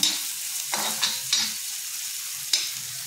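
Moong (mung) dry vegetable dish being stirred and roasted in a pan, a steady soft sizzle with a few scraping strokes of the spoon at irregular intervals, close and moderate in volume, no talking.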